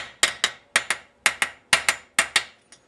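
A regular hammer strikes a driving cup to seat a bearing into a motorcycle steering head: sharp metallic knocks, loud and close, mostly in quick pairs about ten times, with nothing else heard.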